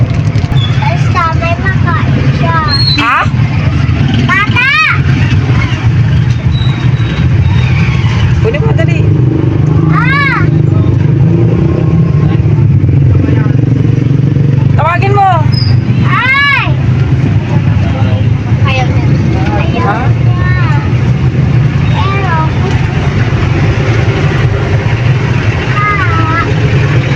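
Busy road traffic with engines droning and passing vehicles, a steady loud rumble throughout, with people talking nearby over it.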